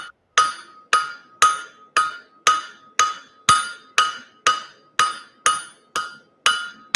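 A blacksmith's hammer striking hot steel on an anvil while drawing out an S-hook point, with about thirteen loud, ringing metallic blows at a steady rhythm, each decaying quickly.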